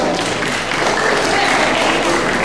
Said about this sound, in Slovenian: En aplavz še enkrat, prosim.